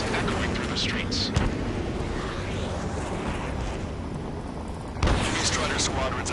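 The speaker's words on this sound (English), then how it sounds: "Gunfire. Jets echoing through the streets." Dense rumbling gunfire and booming explosions from the video game Ace Combat 7 roar continuously, with sharp bursts standing out near the start and again after a brief lull.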